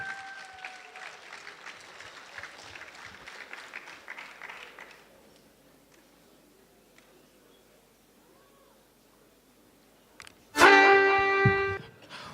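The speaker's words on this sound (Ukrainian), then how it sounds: "Ваші оплески" Audience at a KVN comedy team contest applauds for about five seconds, the dense clapping fading away into near silence before a loud burst of music breaks in near the end.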